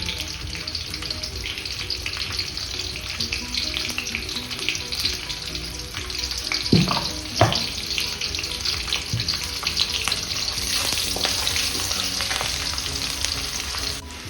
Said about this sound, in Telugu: మునక్కాడలో వేయించుకోవడానికి సరిపడా ఆయిల్ వేసుకుందాం.